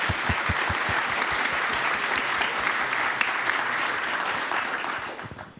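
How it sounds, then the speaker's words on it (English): Book festival audience gives a big round of applause, a steady roar of many hands clapping at even loudness that fades away at the close. "please, let's give them a big ol' round of applause"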